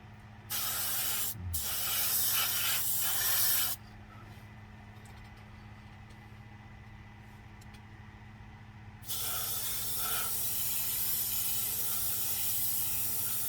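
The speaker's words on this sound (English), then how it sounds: "I'm spraying enough so that it looks, I can see that it's shiny and wet" Two long bursts of spray paint hissing from a can, the first short, the second starting after a pause and running to the end.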